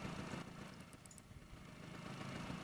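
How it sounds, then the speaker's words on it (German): Boat motor droning steadily while trolling for asp in the fishing game Russian Fishing 4, a continuous engine hum at low volume with no talk over it. "Ich mach mal nicht ganz so laut, weil der Motor halt echt nervig ist."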